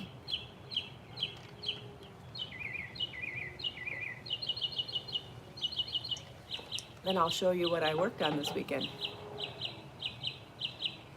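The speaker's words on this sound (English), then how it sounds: "the birds want to be on the video" Small birds chirp in quick repeated bursts while chickens cluck nearby, with a louder flurry of clucking and calls near the end, all under a person talking.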